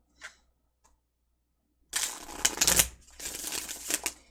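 A couple of faint taps, then a dense flurry of tarot card shuffling, crisp and close, in two quick riffling bursts.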